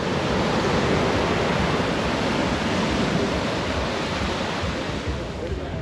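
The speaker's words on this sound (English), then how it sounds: "Ooh, the tide is really coming up." Waves rolling in on a rising tide at Cane Garden Bay, Tortola, a steady, loud wash of surf with some wind noise and no clear breaks.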